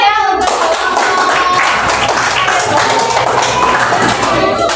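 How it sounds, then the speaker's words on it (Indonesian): A fifth-grade classroom of children claps together for a group of classmates, loud close-up applause filling the room steadily without a break. "Tepuk tangan ya untuk kelompok."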